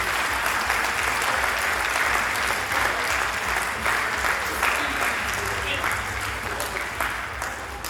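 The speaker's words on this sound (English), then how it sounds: "so we can give you a round of applause" Sustained crowd applause at an independence gala, steady and fairly loud, with a voice briefly audible through the clapping before it eases off slightly near the end.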